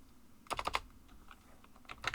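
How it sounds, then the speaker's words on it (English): Keys on a computer keyboard are typed in quick bursts, a cluster of close clicks followed by scattered taps and a final short flurry, quiet and close. "we're just going to type in stop"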